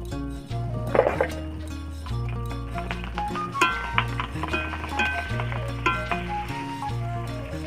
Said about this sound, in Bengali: দেখো পুরো দোকানের মতন ফুচকা ভাজা হচ্ছে